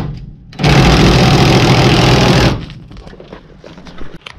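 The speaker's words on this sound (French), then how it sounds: "la clé à choc n'arrive pas à le bouger de millimètre" Impact wrench hammering on a seized axle at an old-style scrapyard, a loud continuous rattling burst of about two seconds, then quieter clanks and workshop noise.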